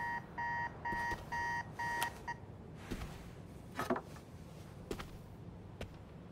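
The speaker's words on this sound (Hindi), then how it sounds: "अलार्म बज रहा है भाई" An alarm sounds inside the Spider-Man 2 video game on PS5: several rapid, evenly spaced electronic beep bursts, loud and clear, then it stops and quieter in-game clatter and movement sounds follow.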